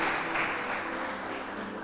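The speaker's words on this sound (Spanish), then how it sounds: "Si usted lo cree, déle un fuerte aplauso" A church congregation applauds during a sermon, a short burst of dense, steady clapping from many hands that holds at an even level and tapers slightly toward the end.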